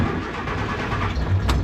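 A Morris car engine cranks and catches after a touch of choke, settling into a steady mid-pitched running hum with a slight rise near the end, close and fairly loud.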